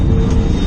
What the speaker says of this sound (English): That's a drone.